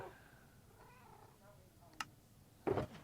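A Minecraft cat purrs and meows under soft talking, with a brief faint tone early on and a short sharper cat sound near the end.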